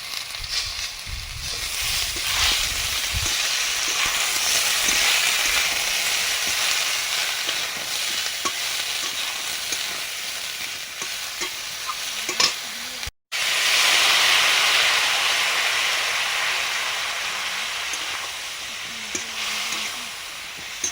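Drumstick stems being sautéed in a pan with cumin, coriander, dried chilli, ginger, turmeric and a little water, a continuous loud hiss and sizzle with faint stirring, cut by one brief silent gap.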